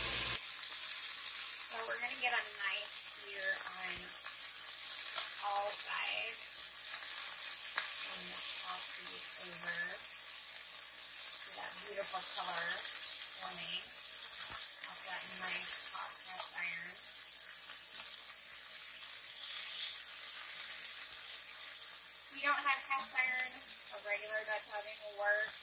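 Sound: beef searing in a Dutch oven

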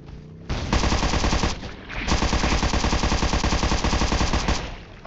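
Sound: gunfire in the video game Undawn

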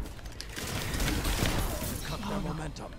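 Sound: battle rifle gunfire in video game

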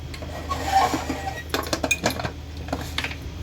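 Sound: putting the lid on a cooker of sweet potatoes

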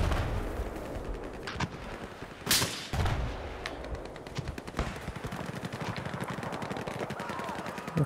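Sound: gunfire in a video game

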